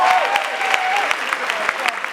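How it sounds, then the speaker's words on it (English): A conference audience in Lagos applauds for about two seconds, steady dense clapping with a few sharper claps standing out and a faint tonal whistle-like hum running beneath. "Please give yourselves a round of applause."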